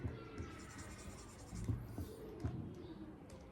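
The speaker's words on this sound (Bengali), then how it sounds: "আচ্ছা এটা আরেকবার লিখি।" Faint scratchy strokes of writing on a board during a physics lesson, a few short quiet scrapes and taps in a room.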